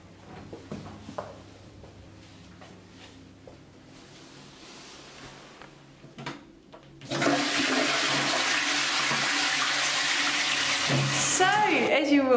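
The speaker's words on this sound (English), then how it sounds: "The toilet." Old house toilet flushing, a loud rushing gush of water that starts partway through and keeps pouring and refilling to the end, after a quieter stretch with faint handling sounds.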